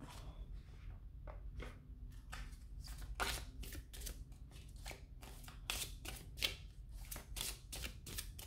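Oracle cards shuffled and drawn, a faint, quick run of crisp riffling snaps and flicks repeating close by with no speech.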